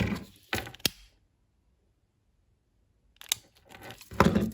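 Scissors snip through a crochet cord while a crochet bag is being finished: a couple of quick, sharp cuts, a silent pause, then more clipping and handling noises close by.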